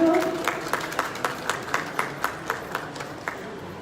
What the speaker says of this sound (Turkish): Alkışlayalım Beykut'u.